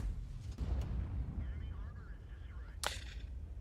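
A tank gun round strikes an Object 430U in World of Tanks. A low rumble and faint voice come first, then a sharp, loud crack lands near the end.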